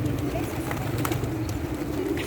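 Pigeons coo softly in a low, murmuring burble around Batu Caves, faint under outdoor background noise.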